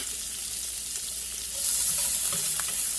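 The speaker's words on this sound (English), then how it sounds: "I'm going to put my onions in first" A steady sizzle of onions frying in a pan with a hissing wash that grows slightly louder halfway through, plus a few faint clinks.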